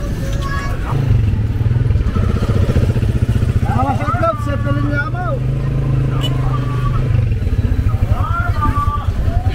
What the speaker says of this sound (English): Got our trike ride home.